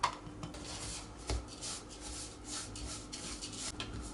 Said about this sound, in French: On va prendre notre sucre, les 200 g d'amandes, le zeste de notre orange et on va mélanger tout ça.